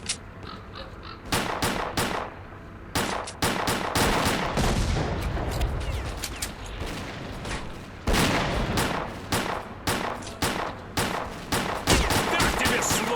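Gunfire in the video game S.T.A.L.K.E.R.: Clear Sky during a swamp firefight, with dense, loud overlapping rifle and automatic bursts and sharp shots repeating nearly nonstop, briefly easing between volleys.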